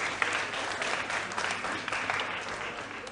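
A quiz championship audience at a school competition breaks into steady, dense applause that holds evenly from start to finish.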